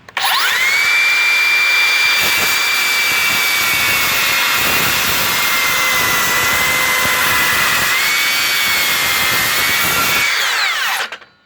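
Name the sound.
cordless Makita saw plunge cutting with new blade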